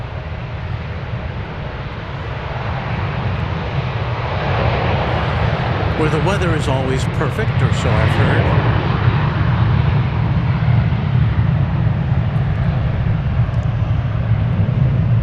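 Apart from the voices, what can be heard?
airliner taking off at DFW Airport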